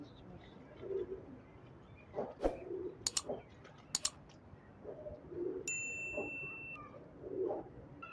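Soft, low coos of star pigeons recur every few seconds against a background hum, with a few metallic clinks and dings scattered between them.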